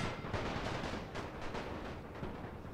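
Sustained massed rifle and machine-gun fire from The Great War video game, set on a Serbian front with French soldiers in a forest, a dense, steady crackle of overlapping shots with no pauses and no voices.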